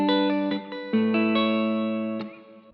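A guitar loop of chords built in FL Studio, with no top melody notes on it. The chords are heavily effected with distortion and chorus, and several sustained strums ring out with reverb, one after another, loud and close.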